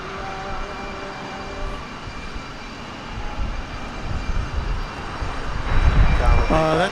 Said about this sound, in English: It's a A320neo.